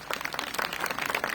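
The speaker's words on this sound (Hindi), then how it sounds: "उस भामाशाह के लिए जोरदार तालियां" Applause for a land donor at a cow shelter event in Hyderabad: dense, continuous clapping from a crowd, fairly close and steady throughout.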